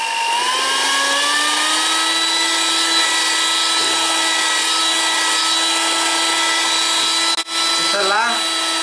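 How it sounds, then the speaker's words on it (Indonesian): An electric mixer beats steamed sponge cake batter at high speed, a loud, steady, close motor whine that holds constant throughout, with a brief clunk near the end. "Kita kocok lagi selama 5-7 menit"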